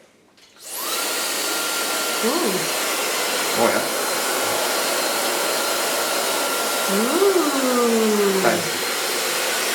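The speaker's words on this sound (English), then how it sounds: "Gonna blow dry this with my Kiona blow dryer." A Kiona blow dryer switches on and runs with a loud, steady whooshing roar while drying hair, with brief vocal exclamations from people nearby over it.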